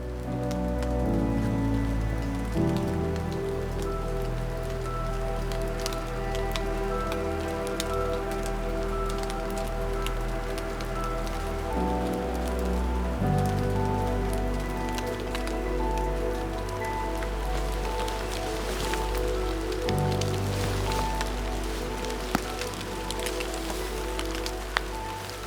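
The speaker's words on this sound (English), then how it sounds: "So this rain is coming down lovely now" Steady rain falls through an autumn forest, a dense continuous patter of drops on leaves and surfaces that holds at an even level throughout, with no voices.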